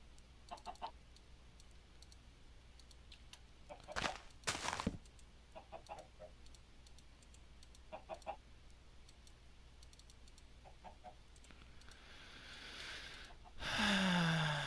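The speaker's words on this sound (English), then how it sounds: "And I'm gonna wood this chicken to death." Minecraft chicken giving short soft clucks in scattered pairs over a quiet game background, with a louder thump and a swelling whoosh near the end.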